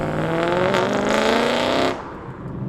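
A BMW E92 M3 engine roars loudly and steadily as the car pulls away, then cuts off sharply, leaving quiet road noise.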